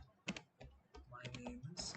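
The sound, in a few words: typing on a computer keyboard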